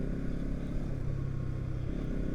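A Bajaj NS 200 facelift motorcycle engine runs at a steady, smooth idle nearby, its low even hum holding constant throughout with no revving.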